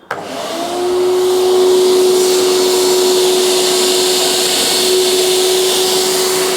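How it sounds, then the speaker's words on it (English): A Hyundai HYVI10030 wet and dry vacuum runs on a single motor sucking up leaves, a loud steady whine starting after a brief click and holding constant throughout with a sustained tonal hum. "I just wanted to try this to see what it was like at vacuuming up leaves"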